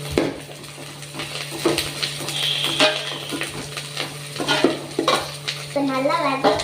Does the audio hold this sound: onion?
yes